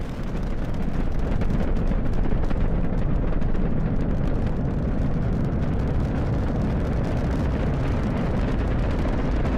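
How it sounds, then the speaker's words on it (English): Artemis 2 rocket boosters ignite and lift off, a massive continuous roar of deep rumbling and crackling that stays loud and steady from start to finish, with no voices. "Booster ignition. And liftoff."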